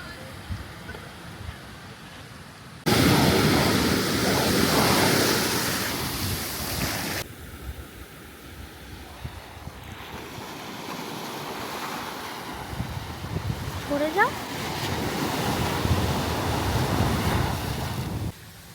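Ocean surf washing onto the beach at Ayana Resort in Bali, a steady broad wash with wind buffeting the microphone, the surge swelling loud for a few seconds before settling back into a softer, continuous roar.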